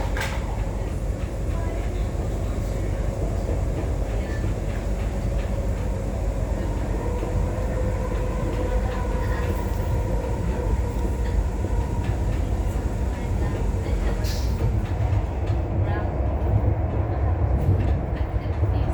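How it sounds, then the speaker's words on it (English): A Transperth C-Series electric commuter train rumbles steadily through a tunnel, with a constant low roar, faint rattling and occasional hiss, while voices murmur underneath. "experience a C-Series driving down this tunnel."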